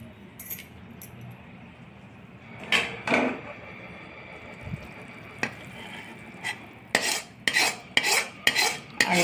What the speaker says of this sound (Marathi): आता ह्यात गूळ मिक्स करणे.